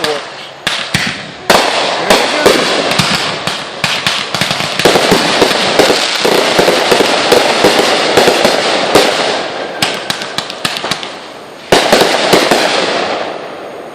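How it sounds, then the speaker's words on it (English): Fourth of July fireworks burst in rapid, loud, overlapping cracks and booms, continuing almost nonstop with a few short gaps, and voices sound faintly among the blasts. "Fireworks."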